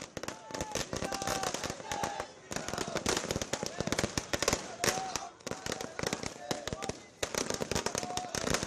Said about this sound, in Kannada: ಪಟಾಕಿ ಸಿಡಿಸಿ ಸಂಭ್ರಮಿಸ್ತಾ ಇರ್ತಕ್ಕಂಥ ದೃಶ್ಯ